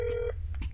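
Telephone keypad dialing tones in the video game That's Not My Neighbor: a couple of short, clean electronic beeps in quick succession, moderately loud over a low background hum.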